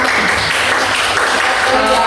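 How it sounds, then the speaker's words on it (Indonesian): A classroom breaks into dense, steady applause for a group presentation, many hands clapping at once in a loud, continuous wash with a faint voice underneath. "Oke, tepuk tangan."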